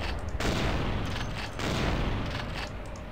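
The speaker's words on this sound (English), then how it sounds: "I gotta shoot at her from the side" Gunfire in Vampire the Masquerade: Bloodlines, loud and dense, with two or three sustained bursts of shots running nearly continuously through the moment.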